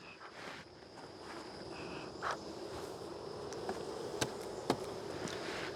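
Honeybees buzzing around an open, very active hive during an inspection, a steady low hum with a few brief clicks and knocks of handling.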